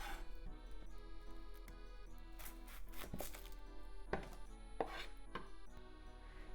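A knife chops onion on a cutting board for Japanese dry curry, with quick irregular taps close by and a few sharper thuds, with no talk.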